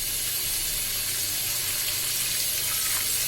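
Coconut milk is poured into a pan of browning onions for prawn kofta, making a loud, continuous hissing sizzle that stays steady from start to finish with no talking.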